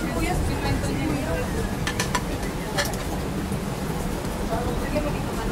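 Onions sizzling in a hot pan while being stirred, a steady dense frying hiss with occasional scrapes and clinks of a utensil, as people chat nearby.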